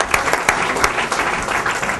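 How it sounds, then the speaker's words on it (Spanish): An audience applauds at a political rally in Pamplona with steady, dense clapping from many hands. The sound is loud and close and fills the whole moment without any voices. "un aplauso para ellos que se estrenan también un poco"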